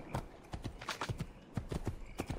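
Horse hooves clop in a quick, uneven rhythm as a mount moves in Assassin's Creed 2, fairly close and clear with no talking over them.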